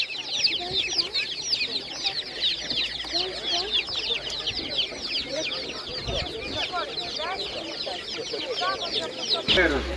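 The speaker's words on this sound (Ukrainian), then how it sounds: "Так, курчатка по 25 гривень, такі добові курчатка" Day-old chicks for sale at a busy animal market, a dense chorus of high, rapid peeping and cheeping that runs continuously and fairly close, with market voices and bustle mixed in underneath.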